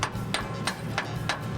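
Sharp metallic knocks from a chipping hammer knocking welding slag off a bead, six blows in a steady rhythm over a low background hum.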